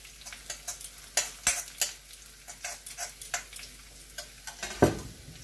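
Chili flakes and garlic are mixed into hot oil off the heat: repeated scraping, clicking spoon strokes against the pan over a low, gentle sizzle, with one louder knock near the end.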